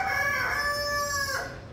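A rooster on a rooftop crows once, long and close, a drawn-out strained call that tapers off near the end.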